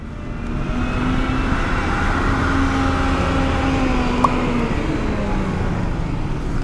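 Heavy, congested traffic on Sukhumvit Road rumbles around a Vespa Sprint 150 ABS scooter, with a continuous low drone of car and bus engines and a brief passing tone mid-way.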